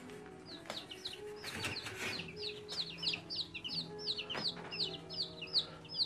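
Several chickens cluck and chirp in a rapid, chattering series behind a fence outdoors, moderately close but fairly quiet, with scattered scuffs and knocks mixed in.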